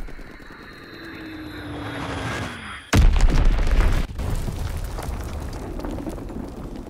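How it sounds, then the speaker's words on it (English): An enemy bomb goes off in Call of Duty: WWII: a droning aircraft builds up, then a sudden, loud, close blast hits, followed by a heavy rolling rumble that slowly fades. "Enemy bomb incoming! Get to cover!"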